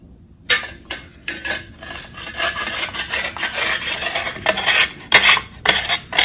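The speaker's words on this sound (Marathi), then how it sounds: "लगेच गुळ पण किसून घेऊया आपण." Rough rhythmic rasping of jaggery being grated on a metal grater, close and fairly loud, a strokes-by-stroke scraping that speeds into dense bursts, with no voices.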